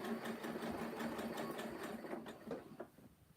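A sewing machine runs a straight stitch across the bottom of a rope basket, its motor whirring with a fast, even rhythmic pulse close up, then slowing and stopping near the end.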